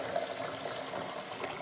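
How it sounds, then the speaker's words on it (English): Boiling hot water pouring into a PVC pipe from a hot water service, a steady close rushing fill with no break and no voices. "fill it up with boiling hot water"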